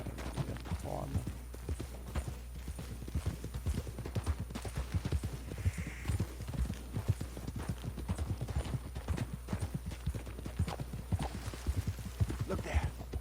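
Horse hooves in the video game Red Dead Redemption 2, a continuous rhythmic clip-clop of a ridden horse at a steady pace, with faint talk in the background.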